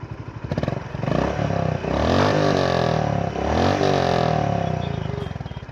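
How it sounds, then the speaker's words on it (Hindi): The stock exhaust of a Honda H'ness CB350 motorcycle revs up from idle in two rising and falling blips, its deep pulsing note growing loud and close before settling back. "अब ये एग्जॉस्ट की है"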